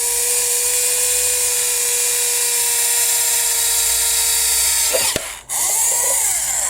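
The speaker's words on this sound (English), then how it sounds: "I'm going to drill it just in front of that." A power drill bores a hole into a leather-covered model display base, its steady whine running continuously up close before cutting off briefly near the end and restarting.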